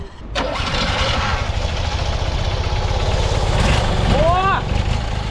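A Fiat 126 engine runs rough with an uneven, shaking idle, a steady loud rumble close by while a voice talks over it.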